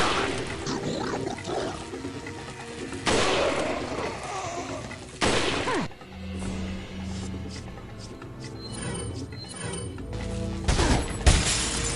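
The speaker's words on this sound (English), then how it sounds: "I had to like shoot him with the shotgun at that point" Loud shotgun blasts from Resident Evil 4 on PlayStation 4 boom out several times over game noise and rumbling ambience, with a few sharp reports spaced a few seconds apart, close and heavy.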